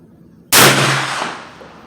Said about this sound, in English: Okay, I'm gonna break in the barrel as I shoot.